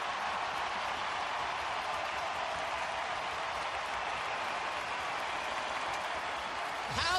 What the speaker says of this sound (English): And now Hagel trying to get the crowd going.